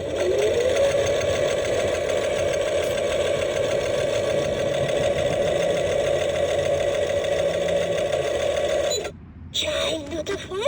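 Sewing machine running continuously with a steady buzzing whir and rapid mechanical stitching drone, then stopping abruptly near the end before briefly restarting, loud and close.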